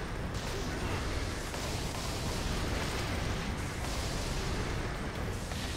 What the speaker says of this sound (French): Oh, il y a une grenade.